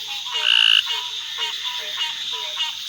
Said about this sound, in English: this sort of trill that we hear right here, that's our gray tree frog that's calling